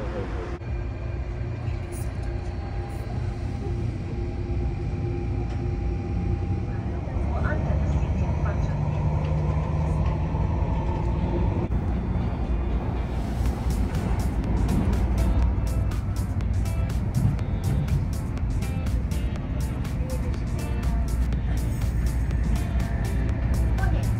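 Steady rumble and rolling hum of the Hong Kong Airport Express train riding toward Kowloon Station, continuous and fairly loud, with a brighter rattling texture in the second half; a person talks over the ride.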